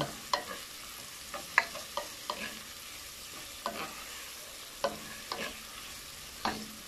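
Onions and pork belly fry for adobo with a soft, steady sizzle, and a spoon stirs through them in scattered scraping clacks. Everything sits faint and close, with no talk.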